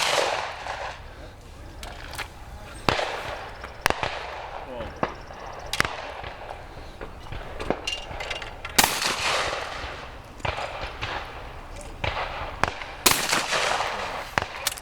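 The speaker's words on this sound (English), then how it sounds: "Pat Liskey from Michigan is shooting now." Shotguns fire at clay targets at the World English Championship, sporting-clay shooting, with many sharp bangs in irregular pairs and singles, some close and loud, others more distant, while people talk at times in the background.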